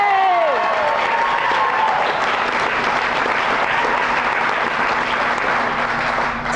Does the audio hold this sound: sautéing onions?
no